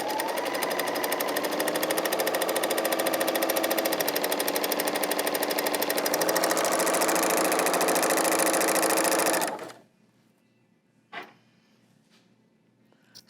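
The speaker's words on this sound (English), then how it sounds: "So that is the 3-thread overlocker and chain stitch" A 3-thread overlocker runs a chain stitch along fabric with a fast, steady mechanical whirring and rapid needle chatter that stops abruptly, followed by a couple of faint clicks.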